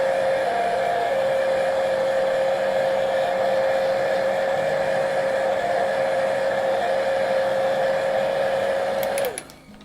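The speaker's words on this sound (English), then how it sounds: "dryer here, just going to quickly dry this so that we can move on to the next part." A hair dryer blows steadily at close range to dry paint on a painting, a constant loud whirring drone that holds for about nine seconds and then cuts off abruptly with a click.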